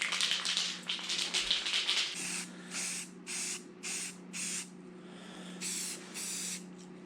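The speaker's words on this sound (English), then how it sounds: "that's spraying awful splattery" Spray gun hissing in short repeated bursts, each about half a second, spraying rust-repair paint with a splattery pattern, with a steady low hum of a compressor underneath; no talking.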